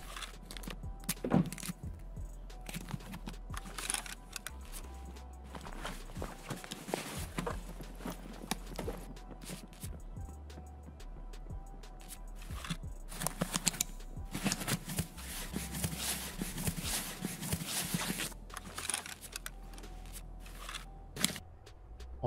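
Footsteps of a character running over metal in the video game Escape from Tarkov: a string of sharp, clattering steps with a metallic ring, heard in bursts over steady game ambience and mostly close.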